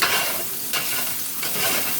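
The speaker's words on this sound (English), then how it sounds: "Make sure you're scraping the bottom of the pan real good." Scrambled eggs are scraped and stirred around a frying pan with a steady sizzle beneath. The spatula makes close, loud scraping passes in a few repeated strokes.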